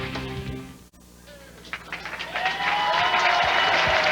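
Crowd at a professional bowling tournament breaks into applause that swells from scattered clapping into steady, loud ovation, with some talk heard before it builds.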